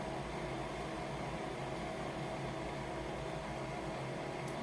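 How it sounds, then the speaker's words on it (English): A steady mechanical hum with broadband whirring noise, continuous and even throughout, as an iColor 550 printer warms up and spools toner at close range. "What you're hearing is the toner is spooling"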